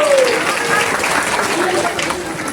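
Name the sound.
audience clapping loudly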